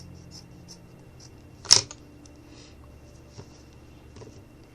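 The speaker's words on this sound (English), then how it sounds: "So I'm just going to go ahead and cut strips." A single quick snip of scissors cutting through felt strips, one sharp close crunch standing out from a quiet room, with a fainter click a moment later.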